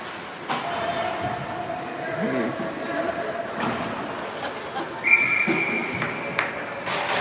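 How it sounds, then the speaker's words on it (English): Referee's whistle at a U18 ringette tournament game, a sharp steady tone cutting through rink noise and crowd murmur, followed by a second short whistle blast. "Whistle goes this time."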